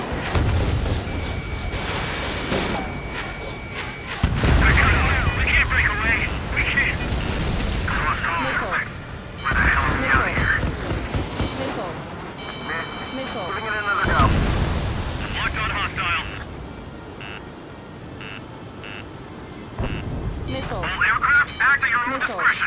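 Missile launches and explosions in the combat flight game Ace Combat 7, loud repeated booms and whooshing bursts with jet noise, under a man calling out missile warnings and weapon calls throughout.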